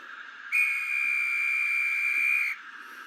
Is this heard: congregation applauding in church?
no